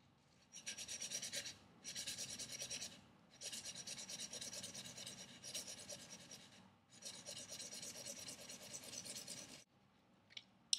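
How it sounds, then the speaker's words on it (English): A blade edge is stroked along 1000 grit sandpaper while a convex secondary bevel is shaped, giving a series of soft, rasping back-and-forth rubs in a steady rhythm, close and fairly quiet, with no talking. "Next, I go on to the 1000 grit sandpaper."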